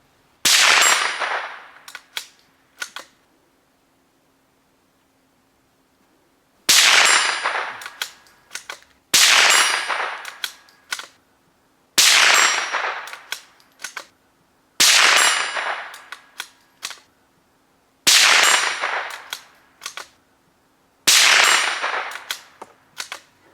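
Single .22 caliber gunshots fired outdoors, seven sharp cracks spaced a few seconds apart, each followed by a short ringing decay, with a faint steady hum between shots.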